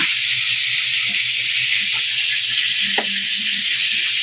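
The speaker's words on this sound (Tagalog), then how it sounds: "maingay background, nagprito kasi kami" Steady sizzling hiss of food frying in a pan, constant and close, with faint clinks and soft background noises underneath.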